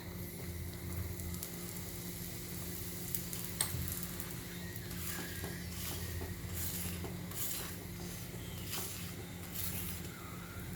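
Paratha frying in ghee on a hot griddle gives a steady close sizzle, with a few soft scrapes and taps from a spatula running through it and no voices.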